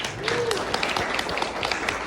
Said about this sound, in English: Please give a round of applause for Yamaha.